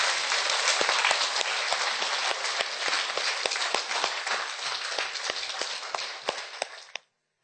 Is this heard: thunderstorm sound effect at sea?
no